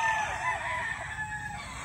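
A black pullet hidden in tall grass gives soft, faint clucking calls, fairly close but low in level, with no talk over it.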